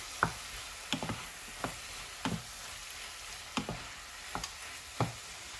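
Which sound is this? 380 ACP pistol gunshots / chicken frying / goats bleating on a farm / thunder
chicken frying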